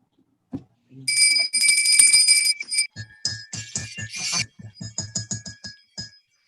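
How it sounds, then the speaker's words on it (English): Bells ring to open a Unitarian Universalist service, bright sustained chimes struck in a quick cluster then scattered lighter tings and clinks, with soft knocking in between. "With the sound of bells, we welcome stranger and friend to a time of mindfulness."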